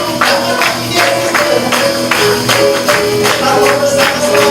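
A church congregation at a Christmas Sunday service claps steadily in rhythm, the claps sharp, loud and evenly spaced over sustained music tones.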